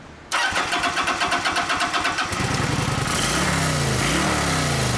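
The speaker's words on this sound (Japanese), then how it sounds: "エンジンかけてもらえる" A Kawasaki Vulcan 900 Classic motorcycle with a stock muffler cranks with a rapid, rhythmic starter chug, catches after about two seconds and settles into a loud, deep, steady idle, with a couple of throttle blips, close by.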